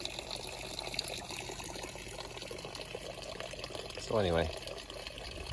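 Water falls steadily into a backyard garden pond with a continuous splashing rush close by, while a person talks over it and a brief bird chirp cuts through near the end.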